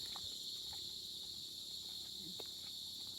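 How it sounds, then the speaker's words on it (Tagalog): Crickets chirping steadily among many trees near a white sand beach, a continuous high shrill drone at a moderate distance with no talk. "At saka yung huni ng kuliglig."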